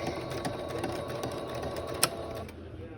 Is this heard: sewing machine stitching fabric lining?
yes